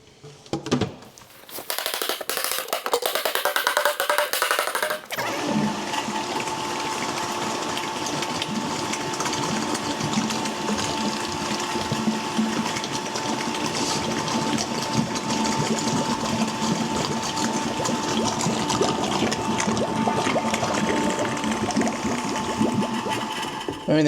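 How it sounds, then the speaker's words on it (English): A self-priming electric pump transfers diesel fuel into containers. A clatter at the start gives way to a steady, loud mechanical whir and hum that runs on unbroken with liquid flowing beneath it. "It's also a self-priming pump, which is just less hassle."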